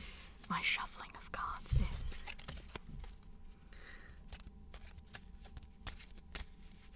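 Playing cards are shuffled by hand for a game of Pyramid Solitaire, heard as a quiet run of close, soft riffles and flutters with scattered clicks, while a low whispering voice goes on underneath.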